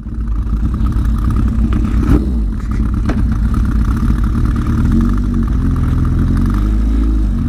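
A motorbike pulling in to park near a coffee van, a loud, close engine rumble that holds steady as it slows, with a few small clunks and no talk.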